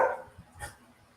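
Dogs bark in a house, one sharp bark followed by a second fainter bark, brief and close, with no speech over them.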